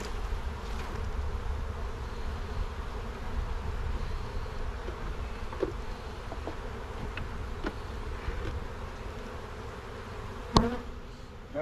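Honeybees at a weak hive hum in a soft, continuous drone that stays close and fairly quiet, broken by a few small clicks and one sharper knock near the end.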